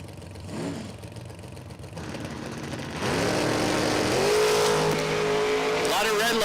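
Bracket cars at a dragway race meet launch and accelerate down the strip, engines rising from a low rumble into a loud sustained roar with climbing revs, under crowd noise and commentary.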